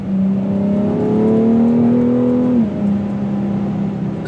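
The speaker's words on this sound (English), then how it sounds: "It still sounds like a BMW straight six" A 2019 BMW X3 M's straight-six engine revs in sport mode with its loud sport exhaust open, a steady, strong drone rising in pitch before dropping back to a lower, settled hum.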